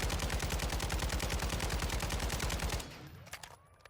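Rapid automatic gunfire from a holo-sighted rifle in Warzone 2.0, a loud, dense burst of evenly spaced shots lasting nearly three seconds, then a sudden stop with fading echoes and small clinks.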